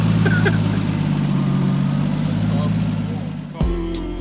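Toyota 1JZ inline-six swapped into a Lexus GS300 idling steadily with a low, even rumble, close and continuous until it cuts out near the end.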